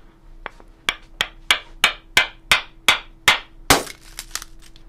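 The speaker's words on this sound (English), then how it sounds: "Oh, that's a light bulb popping." A hammer strikes a glass light bulb in a series of about ten sharp, evenly spaced taps, ending with a louder, bright crack as the bulb breaks. The blows are close and clear, with a quiet room behind them.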